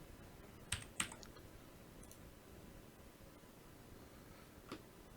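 A few isolated, faint key presses on a computer keyboard, single light clicks spread out over a low hiss with no talking.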